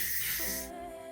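A short, steady hiss of hairspray from an aerosol can lasts under a second, close by, then cuts off.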